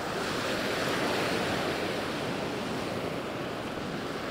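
Storm-driven sea waves roll onto the Sochi shore after a strong storm, a continuous loud roar of surf and wash with wind buffeting the microphone, no voices heard.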